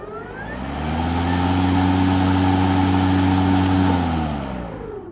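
An EGO 56v Speed IQ battery lawn mower runs in normal mode, its steady electric motor hum swelling up, holding for several seconds, then winding back down, close and loud with no talk.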